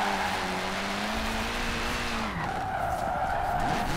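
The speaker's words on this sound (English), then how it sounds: "so can we still drift in Horizon 4?" An Evo drifts in Forza Horizon 4 with loud, sustained tire squeal over a revving engine. Its pitch bends and drops partway through as the slide changes, then another screeching skid follows.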